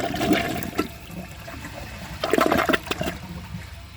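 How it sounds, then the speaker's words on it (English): A 2022 Mainstays HET toilet flushing nearby, with two bursts of rushing water separated by a quieter trickle, and no talking. "Took it in 2 flushes"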